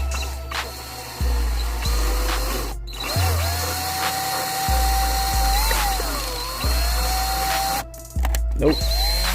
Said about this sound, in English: I might have to drill little holes first and then try to drill the screws through